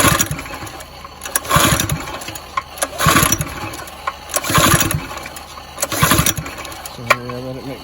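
A pressure washer's small engine sputters and revs in repeated surges, loud and close, with dips between bursts and a short squeal near the end.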